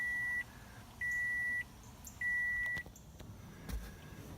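A car's seat belt and ignition warning chime sounds three evenly spaced electronic beeps, each about half a second long, with a faint interior hum between them and a soft click near the end.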